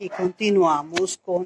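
Neighbors' dogs bark and yip in the background of a home garden while someone speaks Spanish over them, the barks short and partly masked by her voice.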